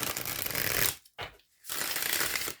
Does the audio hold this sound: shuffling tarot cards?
yes